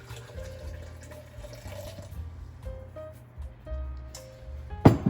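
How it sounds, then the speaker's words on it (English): Water trickles and splashes into a container at a gentle, uneven pace, with a sharper clunk near the end, while making a batch of cold-process coffee soap. "We'll go ahead and pour the water in."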